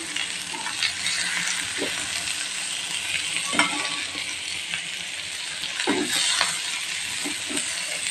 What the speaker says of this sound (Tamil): இந்த மசாலாலாம் முட்டையில் கலக்கிற மாதிரி நம்ம கலந்து விட்டுக்கலாம்